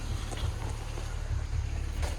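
A boat engine starting up and idling with a slight rattle and occasional misfire, heard as a steady low rumble with faint irregular knocks throughout.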